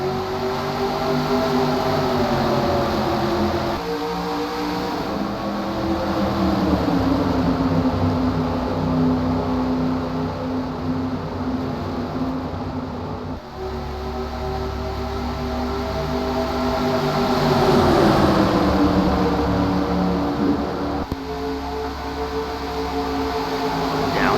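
Stock cars in a 2008 Daytona race roar past in a sustained, loud engine drone, rising and falling in pitch as the pack passes, with no talk audible.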